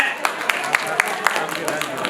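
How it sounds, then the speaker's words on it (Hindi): An audience clapping for children at a prize ceremony, sharp claps landing in a quick, even rhythm against a low background murmur. "एक बार जोरदार तालियां।"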